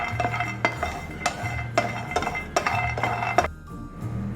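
Almonds dry-frying and being stirred in a pan, with repeated sharp metallic clinks of a spoon against the pan roughly every half second over a low steady background hum, close and moderately loud.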